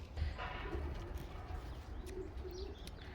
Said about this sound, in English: So I'm going to take you in here and show you our breeding birds.